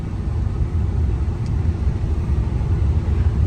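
A car driving out of Accra in Ghana, past road construction, gives a steady low engine and tyre rumble heard from inside the vehicle, continuous and fairly loud with no talk.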